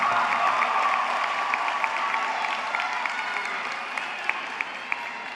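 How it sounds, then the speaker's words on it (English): Audience at a school graduation ceremony applauding a graduating student, steady mid-level clapping that softens slightly toward the end, with a few sharper claps near the close. "Please join me in applauding Quincy Jones"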